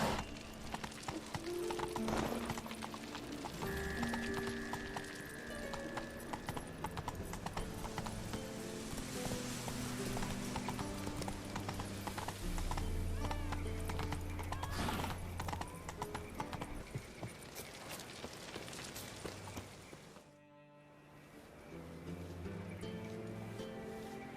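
Horse hooves from The Witcher 3 game clatter in a steady, continuous rhythm with an occasional whinny, layered over dense music and ambience for about twenty seconds before a brief drop-out.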